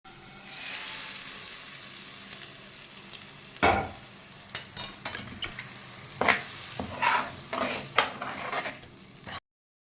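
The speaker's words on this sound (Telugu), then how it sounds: "ఇలా పోపు బాగా కలుపుకోవాలి" Oil sizzles steadily in a pan with tempering spices while a spoon stirs, with several sharp scraping clinks and bursts of crackle toward the end; no voices.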